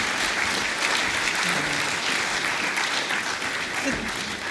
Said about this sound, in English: A round of applause for Daniel.